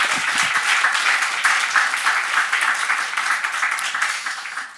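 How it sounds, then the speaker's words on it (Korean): A church congregation claps together during a Sunday morning Easter service, loud and dense at first and then easing slightly over about five seconds, with no talk over it. "박수 부탁드립니다."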